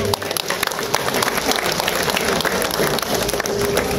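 A crowd at a Sardar Vallabhbhai Patel birth anniversary event with police and college groups breaks into loud, dense applause, many hands clapping close together in a continuous rattling roar.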